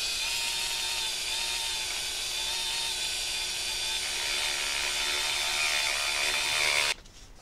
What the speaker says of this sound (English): This one's a variable speed Dremel.